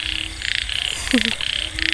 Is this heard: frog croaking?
yes